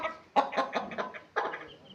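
A Bhimavaram breed mother hen clucks to her chicks in two short bursts of quick, close clucks with a brief pause between, and no voices.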